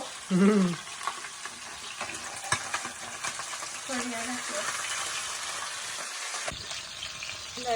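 Pabda fish curry bubbling and sizzling in a pan on a home kitchen stove, a steady close frying hiss with a few brief voice sounds at the start and a stir or clatter midway.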